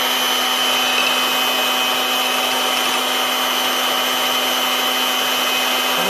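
Electric mixer beating egg whites into Dominican-style meringue for frosting, a steady, loud, unbroken motor whine that holds constant throughout with no talking.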